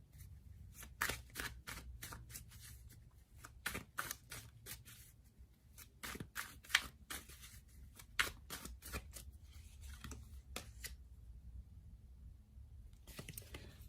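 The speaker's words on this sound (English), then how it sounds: "let's give the cards a good shuffle" Tarot cards shuffled close up, a series of quick papery slaps and riffles in an irregular rhythm, with a low hum underneath.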